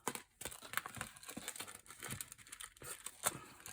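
Paper is folded and creased by hand into a small envelope pocket for a mini journal, making soft, intermittent crinkles and rustles, quiet and close, with no voice.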